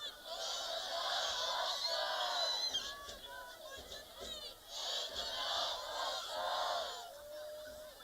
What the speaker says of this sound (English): Crowd urging them on.